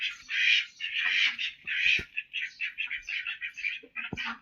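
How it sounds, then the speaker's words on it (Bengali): Ducklings calling, close and lively, with a rapid run of high, squeaky peeps and quacks in uneven bursts, with small knocks between them. "এখানে হাঁসের বাচ্চু"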